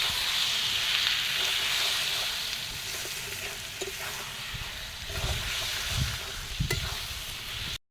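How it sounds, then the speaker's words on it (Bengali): Soybean chunks with onion and tomato sautéing in a pan, a steady hiss of frying with occasional stirring scrapes and taps, close by, without talk, and fading out at the very end. "পেঁয়াজ আর টমেটোটা এবার আমি কষিয়ে নেবো সব"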